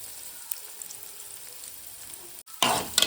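Onion and green chili fry in a pan for bun dosa, giving a steady soft sizzle that turns into a louder, brighter crackle near the end, close by with no talking.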